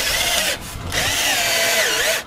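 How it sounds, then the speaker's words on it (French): A power drill driving screws, two loud whirring bursts with a short pause between, the motor pitch shifting as the screw bites in, then stopping abruptly. "2 vis en haut, 2 vis en bas, on finira demain de visser."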